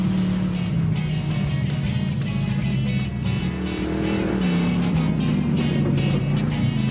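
A Peterson Chieftain car races around a track, its engine droning loudly and continuously with a steady pitch that shifts slightly mid-run, heard alone without talk.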